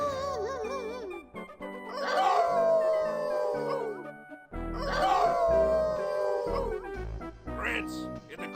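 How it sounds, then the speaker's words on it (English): Dogs howl together in the video game Inherit the Earth, two long wavering group howls with yips and sliding pitches, loud and close, each swelling and fading before a short gap. "how about a good group howl?"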